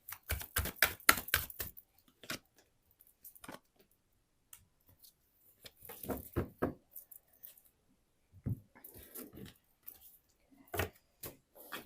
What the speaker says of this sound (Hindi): मैंने कार्ड शफल कर लिया